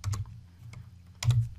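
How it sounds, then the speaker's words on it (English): Several quick keyboard clicks in two short bursts, with a quiet pause between them, close and crisp. "Typing a short little reply."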